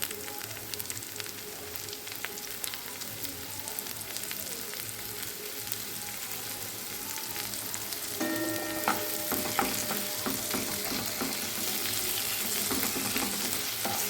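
Chopped onions and tomato frying over a medium flame for a Bengali prawn curry, a continuous close sizzle that swells louder partway through, with occasional stirring and no speech.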